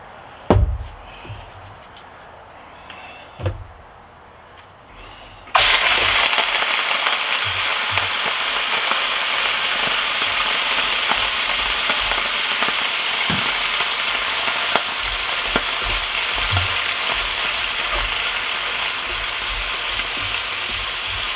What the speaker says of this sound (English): We're going to go ahead and brown this meat off real quick.